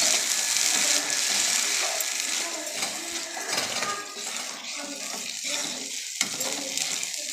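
Masala sizzling and frying in a pan for sem (flat bean) sabji, with a steady broadband hiss and occasional stirring clinks, close and continuous throughout.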